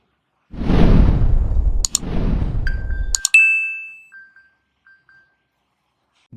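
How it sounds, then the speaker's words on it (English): A locked iPhone, pinged from an Apple Watch, sounds a sequence of bright electronic chime tones after two loud rustling handling noises, the ringing notes ending cleanly and fading into silence. "touch and hold on it to play sound on a locked iPhone"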